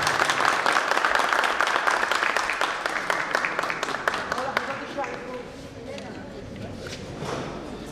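Applause from the audience at an award ceremony of the 2nd International Tire draughts championship, a dense burst of many clapping hands that gradually thins and fades toward the end.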